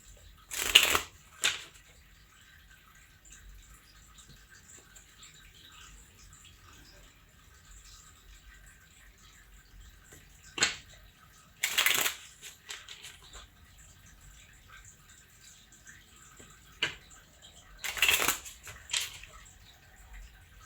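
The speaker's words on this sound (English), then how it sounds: "Your cards are shuffling weird." A deck of cards is shuffled by hand in several separate bursts, each a quick crisp riffle close to the microphone, with long quiet pauses between them.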